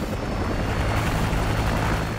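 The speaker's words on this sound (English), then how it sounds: "Friendly chopper inbound." Helicopter rotor drone from a friendly chopper in the Modern Warfare 2 video game, a steady loud broadband whir with low thumping underneath, continuous throughout.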